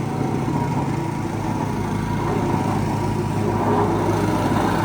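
A plate compactor with rubber rollers runs over paver stones to work sand into the joints, a loud, steady engine drone with a rumbling vibration that stays even throughout, no voices.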